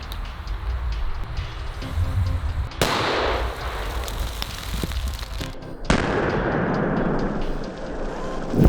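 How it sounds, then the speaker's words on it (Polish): Two sharp, loud firecracker bangs a few seconds apart inside a bucket of dry ice, each followed by a rushing hiss and rumble of debris, with faint background voices. "odpalamy petardę, wsadzamy i cieszymy się efektem"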